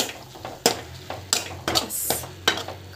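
A spoon stirs semiya upma, a vermicelli dish, in a pot, making several sharp scraping and clinking strokes against the metal at an irregular rhythm, close and fairly loud, with a soft low hum underneath.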